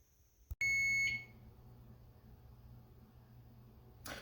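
A kitchen timer set while baking a pecan pie sounds one loud, steady electronic beep tone for about half a second, then quiet room hum.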